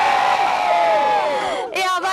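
Crowd at an agency awards event shouting and whooping together, loud and close, with a sustained rising yell that drops off. A brief second burst of cheering follows.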